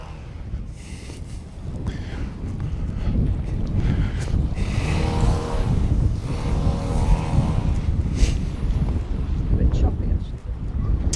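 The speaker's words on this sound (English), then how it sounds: "I think it is quite windy out there" Wind buffets and rumbles against the microphone throughout at Santa Ponsa, with faint voices and a steady low roar underneath.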